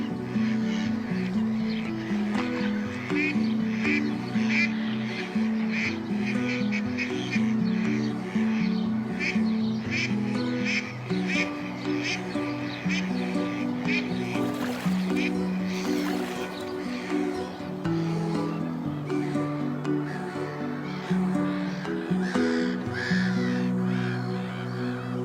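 Birds call across a Belgian wetland, steady overlapping caws and quacking-like calls with layered tonal cries filling the background continuously, moderate and distant.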